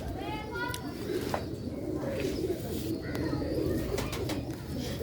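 A medical breed pigeon coos softly and repeatedly, close by, under a voice talking, with other birds chirping faintly in the background.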